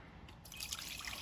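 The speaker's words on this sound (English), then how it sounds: "dump that water into the other bin" Water poured from a lifted bin into another bin at an outdoor activity, a soft close trickle and splash that swells midway and keeps running for a moment.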